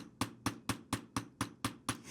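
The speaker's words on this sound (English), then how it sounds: "I'm going to take my hammer and just start to tap along the edge." Hammer tapping along the edge of a square metal pendant resting on a bench block, eight crisp, evenly spaced ringing taps heard close and fairly quiet, with no voice.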